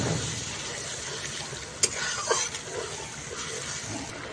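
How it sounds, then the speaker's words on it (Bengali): Water pours steadily into a stingray fish curry masala in a pan, a continuous near gush with a couple of brief clinks. "এবার এর মধ্যে দিয়ে দেব আমি জল, পরিমাণ মতো জলটা দিয়ে দেব।"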